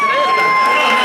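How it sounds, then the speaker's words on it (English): Audience applauding and cheering at an opening night concert event: a continuous loud wash of crowd noise with high whistles and shouts running through it. "As we must keep applauding."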